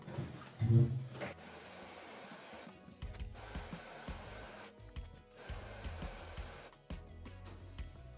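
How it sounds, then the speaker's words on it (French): A hair dryer blows onto a plastic protective skin on a Kraton EXB RC car. The motor whirs steadily at moderate volume in a few bursts, with brief cutoffs and rustling handling noises between them. "on va mettre un petit coup de sèche-cheveux pour le rendre plus plat"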